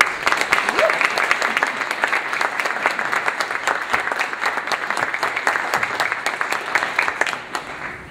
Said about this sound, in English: join me in a round of applause for our organizers, Carlos Varga and Sylvia Fucek